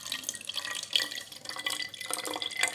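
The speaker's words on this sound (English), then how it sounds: "we will take this transparent bottle and we will put all the red color water" Red-colored water is poured into a transparent plastic bottle, giving a close, gurgling trickle with uneven splashy bursts for a few seconds.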